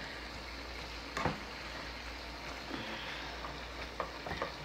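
Peppers and onions frying in oil, a quiet, steady sizzle with a few faint clicks and utensil knocks scattered through it.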